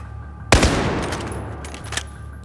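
In the Battlefield 4 video game, a sudden loud explosion blows through a wall, a sharp close blast followed by a long rumbling, debris-filled decay and a second smaller burst.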